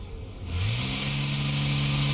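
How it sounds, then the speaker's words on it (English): A car engine in a police simulator game revs up sharply and holds at a loud, steady roar after a brief quieter start. "Wow, that's a very loud engine."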